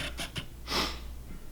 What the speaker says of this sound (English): I got the sniffles